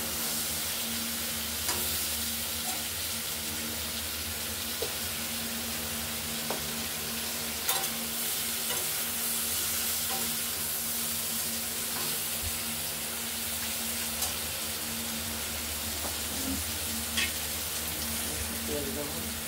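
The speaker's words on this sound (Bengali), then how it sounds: "কাঁঠাল বলতে এঁচড়গুলোকে ভেজে নিতে হবে ভালো করে" Young jackfruit pieces stir-fried in hot oil for a shrimp dish, a steady close sizzle with intermittent scraping strokes of a utensil against the pan, no talking.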